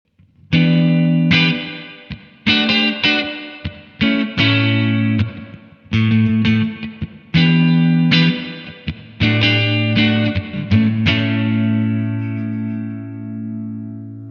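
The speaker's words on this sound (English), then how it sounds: "plate reverb." Overdriven guitar through a Blackstar Amped 2 strums a chord progression with a smooth plate reverb, the final chord sustaining and slowly fading into a long, shimmering tail.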